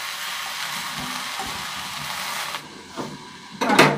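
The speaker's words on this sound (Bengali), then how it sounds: "আর এখন শাকগুলো ঢেলে দিব।" Leafy greens in a hot pan seasoned with salt, turmeric and green chilli give off a steady hiss of sizzling, then a few stirring scrapes and a louder sizzling burst near the end.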